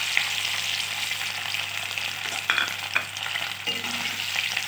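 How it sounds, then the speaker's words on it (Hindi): Boiled potatoes sizzle and fry in hot oil in a pan over a high flame, a dense steady crackle with occasional clinks of a spoon stirring them. "तेल गरम हो चुका है तो इसमें आलू को हम डाल देते हैं फ्राई करने के लिए।"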